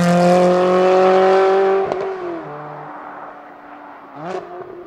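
Ferrari 360 Challenge Stradale engine holding a loud, harmonic-rich rev that falls away, followed by a brief mechanical clatter, a quieter idle and a short blip of throttle near the end.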